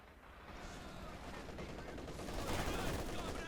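A rocket barrage thunders in a World War II strategy game, a dense rapid rattle of launches and explosions rising slightly in loudness, heard fairly far off and faint.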